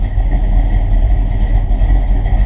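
A car engine idles steadily right after a carburettor change, with its oil and temperature being checked. The low, even rumble holds close and loud throughout with slight fluctuations and no speech over it.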